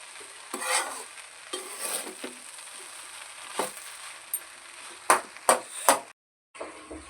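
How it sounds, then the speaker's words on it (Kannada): Rice being stirred and mixed into spicy egg fried rice in a hot pan, with a steady sizzle and repeated sharp scraping clacks of the spatula against the pan, loud and close, no talking. "ಅನ್ನ ಹಾಕಿ ಕಲಿಸ್ಕೊತಾ ಇದ್ದೀವಿ."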